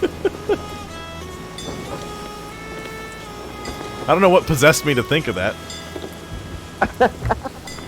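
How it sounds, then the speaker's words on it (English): A rainstorm in a video game: steady, soft rain hiss with faint rumbling beneath, running under a voice and some tonal game sounds. "I'm gonna get out of the storm entirely."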